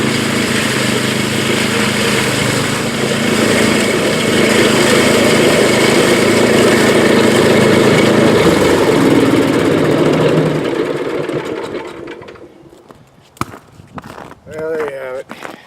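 A Tecumseh small engine with a newly fitted carburetor runs steadily and loudly for about ten seconds, then cuts out, leaving quieter handling noises and a few faint sounds to the end.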